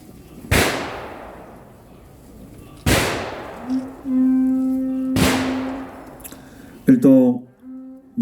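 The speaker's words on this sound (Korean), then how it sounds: "의장대 조총 발사." Three loud rifle volleys from a ceremonial honor guard at a Korean memorial ceremony crack out a couple of seconds apart, each echoing away. A sustained horn-like tone follows between and after the shots.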